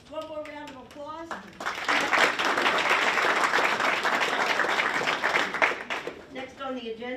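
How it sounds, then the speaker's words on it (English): Audience at a school district board meeting breaks into steady applause that swells quickly and holds for several seconds, with voices speaking just before and as it fades. "one more round of applause"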